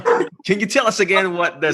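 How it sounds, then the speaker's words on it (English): A dog barks and yips in the background of an indoor live Q&A session, with quick sharp bursts that sit under continuous speech. "Sorry about my dog in the background."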